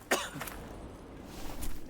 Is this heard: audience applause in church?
no